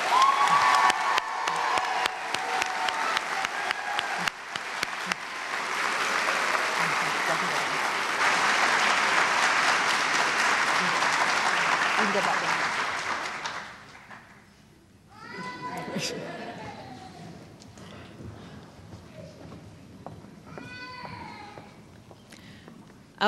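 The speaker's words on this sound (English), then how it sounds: "Let's give these students a well-deserved round of applause again." Sustained audience applause at a high school graduation ceremony honoring graduating students, a dense wash of clapping that fills the room for about fourteen seconds before fading to scattered murmurs and faint voices.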